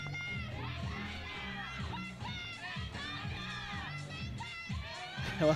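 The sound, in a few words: Australian and Spanish supporters shouting in archery crowd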